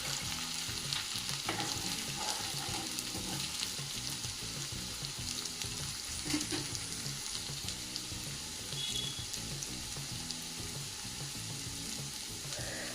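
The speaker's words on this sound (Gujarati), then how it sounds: "મસાલાની કચાશ જાય ત્યાં સુધી સાંતળી લઈશું" Spice masala sautéing in a pan for a gujarati black-eyed pea curry makes a steady, close frying hiss with scattered scraping of a spoon, continuous and even throughout, no voices.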